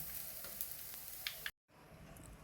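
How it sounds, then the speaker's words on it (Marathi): Fasting thalipeeth flatbread roasting in a ghee-greased pan, a steady close sizzle with a few soft clicks, then a brief cut to silence before the quieter hiss resumes. "आता थालीपीठ पलटून घेऊया आणि दोन्ही बाजू खरपूस अशा भाजून घेऊया."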